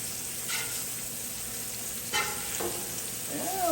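New York strip steaks sizzle steadily on a Blackstone griddle after flipping, with a constant close frying hiss and a few brief scrapes or taps, no talking.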